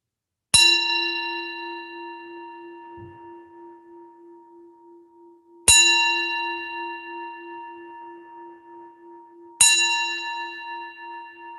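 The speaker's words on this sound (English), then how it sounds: "What arises in the moment when you hear the bell." A meditation bell rung three times in a quiet room, each strike a bright clear ding with a long shimmering ring that slowly fades before the next, spaced about five seconds apart.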